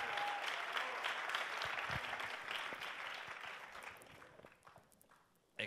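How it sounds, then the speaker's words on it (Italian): An audience applauds at a meeting in Cortina d'Ampezzo, with dense clapping that gradually fades into a few scattered claps and ends with a brief knock. "Un altro applauso."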